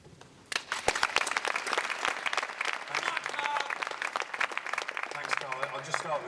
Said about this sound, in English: You get the applause